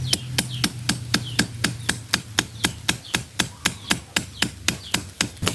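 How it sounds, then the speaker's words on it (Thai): A bamboo stake is hammered into a papaya trunk with a steady run of sharp, evenly spaced blows, about three to four per second, ringing close and clear over a faint low hum. "ผมก็จะใช้ไม้ไผ่เลยนะครับ ผมนะแล้วก็ตอกลงไปครับผม"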